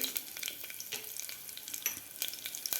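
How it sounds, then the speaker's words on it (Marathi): Cumin seeds and green chilies crackle in hot oil with a bright, busy sizzle and scattered sharp pops, close and steady throughout, with no talking. "तेल आपल्याला व्यवस्थित गरम करून घ्यायचं आहे गरम झालेलं आहे त्यामध्ये घालायचे आपल्याला जिरे हिरवी मिरची"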